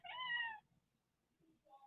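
A house cat gives a loud, drawn-out meow close by, then after a short pause makes a fainter, brief second call.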